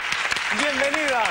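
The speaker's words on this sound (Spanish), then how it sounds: "Un aplauso, por favor." Audience applause welcoming a singer on a 2001 Spanish television show, a steady bed of clapping beneath a host speaking and an overlapping voice.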